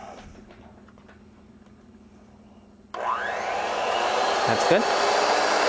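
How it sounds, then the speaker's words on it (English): An electric hand mixer switches on partway through and whirs loudly and steadily as it beats batter, following a quieter stretch with brief talk. "we're going to take a mixer and mix that up."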